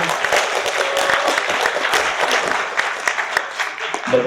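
A crowd claps steadily and fairly loudly at a school music, art and poetry event, a continuous wash of many hands with no pause.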